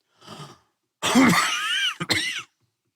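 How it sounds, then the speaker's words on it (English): A person coughs close by: a short rough cough, a pause, then a longer hoarse cough ending in a quick double hack. "I got a little cough going on."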